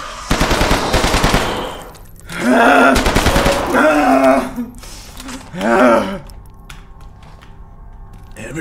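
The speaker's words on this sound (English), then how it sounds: "This is where I can use my rifle!" Rifle gunfire in a video game comes as rapid bursts of shots in two or three loud clusters. Someone talks and exclaims over the shooting.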